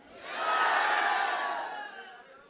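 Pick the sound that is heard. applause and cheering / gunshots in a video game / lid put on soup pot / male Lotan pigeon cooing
applause and cheering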